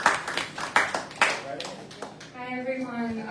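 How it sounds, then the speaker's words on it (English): Brief clapping from a small audience at a community meeting, a short burst of hand claps that fades within about two seconds, with a voice speaking over it. "Let's give her a round of applause"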